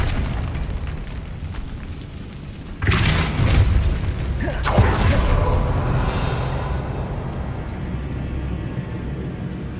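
A heavy boom from the Compulso spell striking in the video game Hogwarts Legacy hits sharply, followed about two seconds later by a second, smaller burst, both over a steady low ambient rumble.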